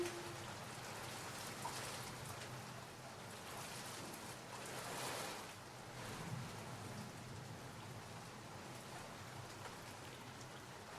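Steady rain falls, a dense hiss of drops pattering on surfaces, continuous and even throughout with no voices.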